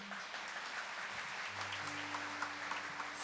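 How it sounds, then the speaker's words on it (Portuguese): Applause from a church congregation welcoming the preacher's mother, Dona Isabel, a faint, steady wash of many hands that sounds distant and fills the whole clip, with a low hum entering midway. "Vamos aplaudir a minha mãezinha."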